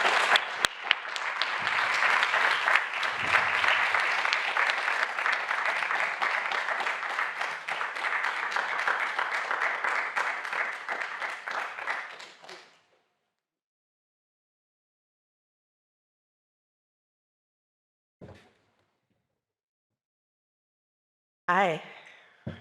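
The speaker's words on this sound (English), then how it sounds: "Please join me in applause for Hannah Bruckner as she receives this Tra" An audience gives a sustained round of applause for an award recipient, dense clapping lasting about twelve seconds before cutting off into silence, followed by a brief sound and a short burst of voice near the end.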